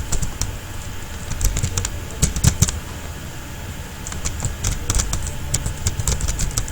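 Rapid, irregular key clatter from a computer keyboard as code is typed for a Django REST Framework API, close and steady over a low hum with bursts of quicker strokes.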